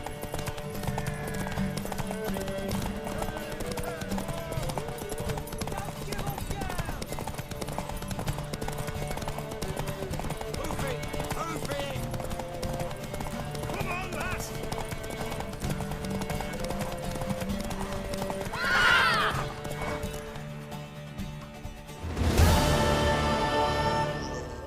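Hooves clip-clop in a quick, steady rhythm, with a horse neighing briefly near the end over a layered soundtrack in The Witcher 3: Wild Hunt.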